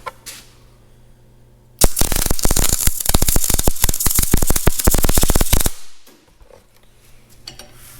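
A welder's arc crackles loudly and harshly in a dense, sputtering burst lasting about four seconds, set between quieter stretches of low background hum in cold conditions.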